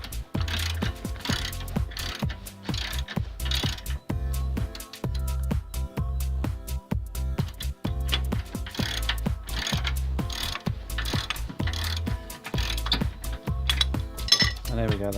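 A ratchet wrench clicks rapidly in repeated bursts as it works tight 15 mm front suspension bolts under a Volvo XC90, with short pauses between strokes.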